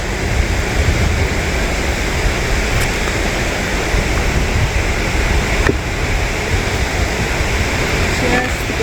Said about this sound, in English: That's the river going downstream, away from the mill.